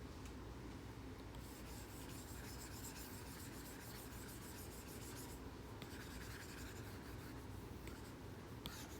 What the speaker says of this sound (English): I'm just going to erase this.